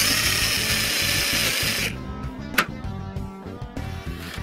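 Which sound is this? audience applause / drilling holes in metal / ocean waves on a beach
drilling holes in metal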